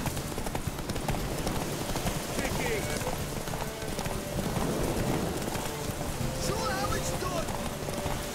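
Hooves of a galloping horse in The Witcher 3 clip-clop steadily, mixed with a dense patter like rain and busy background noise throughout.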